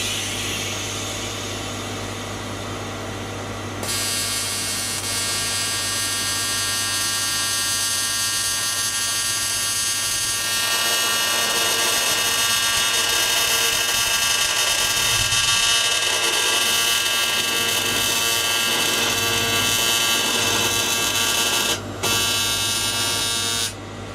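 TIG welding on a cast aluminium repair gives a continuous loud electric buzz and hiss, constant and close, with a strong low hum and a brief break near the end.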